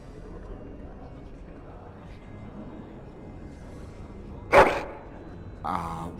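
A dog barks in Dragon Age: Origins, one sharp loud bark standing out over quiet game ambience, followed shortly by a second softer yelp or bark.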